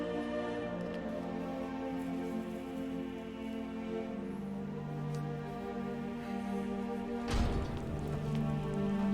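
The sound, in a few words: rain in The Elder Scrolls V: Skyrim video game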